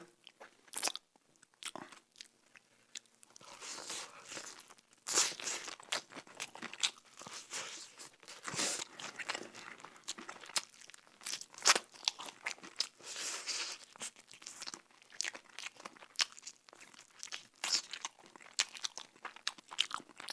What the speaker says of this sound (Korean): KFC 치킨 처음 먹어봤는데 아 너무 느끼하다.